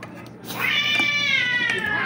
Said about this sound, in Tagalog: Yung pusa. Mag-aaway.